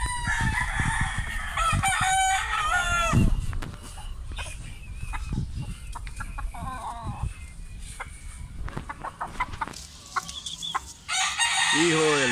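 A five-month-old young white rooster crows repeatedly, loud and close, with several drawn-out calls among clucking fowl and other farmyard birds.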